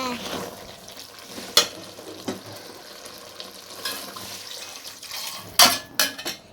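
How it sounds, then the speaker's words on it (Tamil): Chicken pieces sauté with biryani masala in a pan, giving a steady sizzle and frying hiss close up, broken by several sharp scraping stir strokes, with no talking. "கறி வெந்ததுக்கப்புறம் பிரியாணி மசாலா போட்டு வதக்குங்க."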